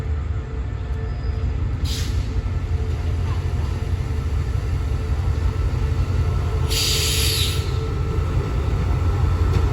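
Passenger train number 84 in Bangkok rolls in at night, a loud steady rumble of wheels and carriages with two brief high hissing bursts from brakes or air, continuous and close throughout.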